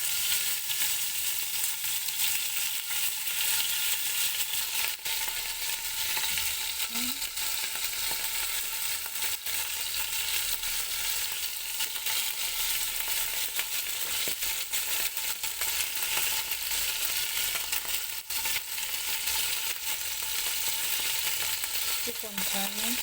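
Mshikaki meat skewers cooking over heat, a continuous dense sizzle and crackle running steadily throughout with faint scattered knocks, no voices.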